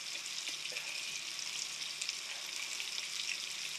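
Chicken frying with garlic and onion in a pan, a steady close hiss and sizzle with faint crackles throughout and no voices.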